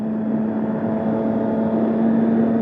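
A Triumph Street Triple 675 motorcycle cruising in third gear at 5,000 RPM, its engine and exhaust giving a steady, loud, even drone with a sustained hum and no change in pitch.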